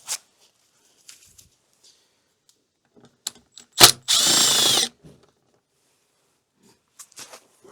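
A power tool undoes a bolt on a BMW F900XR motorcycle in one loud, close burst of about a second, with a sharp knock just before it and light clicks and handling noises around it.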